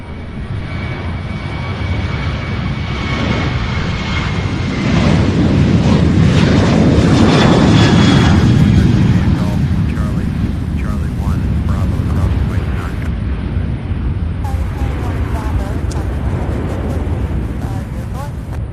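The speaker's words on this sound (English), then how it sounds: "So a Southwest flight taking off on us here." Southwest airliner jet taking off at Louisville airport, a loud sustained engine roar building to a peak midway then slowly receding, with a person talking over it.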